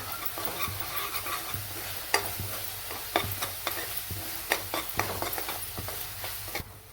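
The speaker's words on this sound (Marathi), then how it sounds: "हळद टाकली अर्धा चमचा, धने पावडर, थोडंसं छान हलवून घेऊ." A spoon stirs turmeric and coriander powder through a spicy fish masala in a pan, with repeated scraping clicks against the metal over a soft continuous sizzle and no voices.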